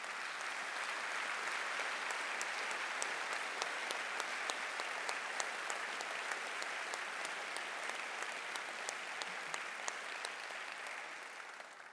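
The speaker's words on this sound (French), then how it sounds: "Je vous demande vraiment de l'applaudir" Sustained audience applause fills a hall at the inauguration of a hybrid organ in Angers, dense and steady for the full stretch with no voices over it.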